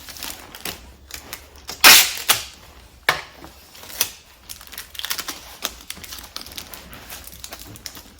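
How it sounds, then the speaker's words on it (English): Packing tape pulled and pressed onto a shipping package, a loud ripping burst followed by scattered taps, rubs and crinkles at close range, no talk. "All right, then give it some tape."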